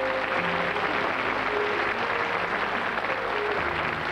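Sustained applause from a French TV studio audience on a 1991 variety show, steady and dense for several seconds with no gaps, a little music or voices faintly mixed underneath.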